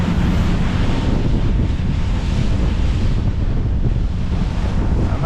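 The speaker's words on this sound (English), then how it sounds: "it is windy out here" Strong wind buffets the microphone over rushing waves and surf at sea, recorded aboard a powerboat while spectating a powerboat race; loud, constant roar with no voices.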